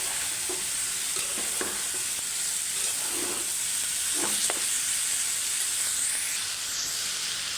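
Vegetable bhaji frying in a pan with a constant close sizzle and hiss, broken by intermittent scraping stirs of a spatula.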